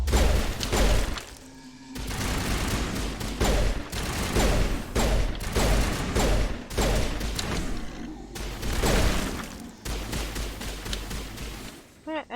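Gunfire from Mass Effect Legendary Edition, repeated bursts of rapid shots in several clusters with thuds and crashes, with a voice talking at times over the combat.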